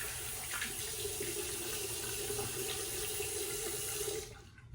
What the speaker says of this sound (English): let me get rinsed up